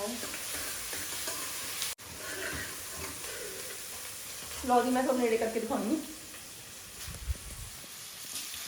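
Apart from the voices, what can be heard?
tadka tempering frying in a pan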